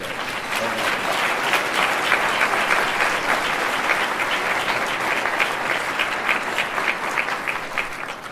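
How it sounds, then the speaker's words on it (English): Steady, full applause from an audience at a talk about an all-male Jesuit Catholic high school, dense continuous clapping that holds evenly from start to finish. "If you could give them a round of applause, that'd be great."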